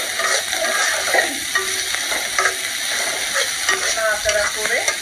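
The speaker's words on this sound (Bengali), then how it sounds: "পেঁয়াজটা দিলে এবার পেঁয়াজটা একটু হালকা নাড়াচাড়া করবেন" Onions sizzling steadily in a pan while being stirred lightly, with repeated close scrapes and clicks of the utensil over continuous frying crackle and no talk.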